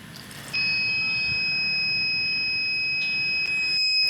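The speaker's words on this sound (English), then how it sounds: "when it's super full, the motor shuts off and you hear the really annoying beep" A water tank level indicator's buzzer sounds once the tank is full, a loud, steady high-pitched electronic tone switching on abruptly and holding for several seconds with a brief dip near the end, close up, no talk.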